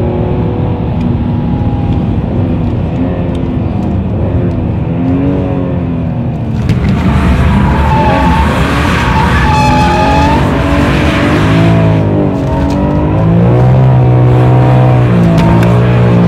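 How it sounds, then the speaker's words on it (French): A BMW M3 E46 drifts on a race circuit, its engine revving loud and steady while the wheels spin. Tires squeal in rising and falling tones, and they grow harsher and more intense partway through. "Une fois qu'elle a décroché, j'entretiens la dérive avec l'accélérateur par dosage des patinages des roues"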